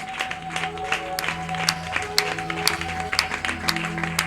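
A church congregation applauds their Lord during a lively French-language service, with steady scattered clapping and crowd noise under sustained organ or keyboard tones.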